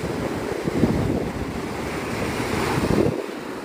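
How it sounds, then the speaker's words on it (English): Strong wind and rolling surf at Navarre Beach around sunrise, a loud, continuous roar of breaking waves mixed with gusty wind buffeting the microphone, with no talking. "With the wind getting higher or more by the minute"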